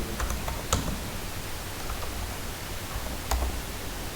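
Someone types on a computer keyboard, with scattered quick key taps and a few louder clacks over faint room noise, close and fairly quiet, with no voices.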